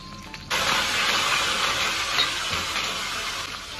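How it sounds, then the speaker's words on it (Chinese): Scallion, ginger, garlic and pork belly hit hot oil in a wok: after a brief quiet start a loud, broad hissing sizzle bursts up and holds steady, close and without voices. "炒香，葱姜蒜，咱下锅"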